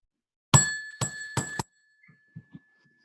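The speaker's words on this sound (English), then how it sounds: "The bell still works." Three bright metallic dings from a bell rung in quick succession in a scene from the film The Jane Austen Book Club, close and loud with lingering tones, followed by a few soft faint knocks and then quiet.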